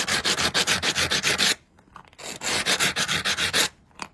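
Scrubbing an object clean with a brush gives rapid rhythmic back-and-forth rasping strokes, close and loud, in two bursts separated by a short pause.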